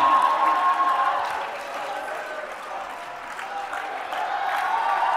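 A live audience at a motivational talk keeps up a mix of cheering, clapping and crowd noise, strongest at the start, dipping midway, then rising again toward the end.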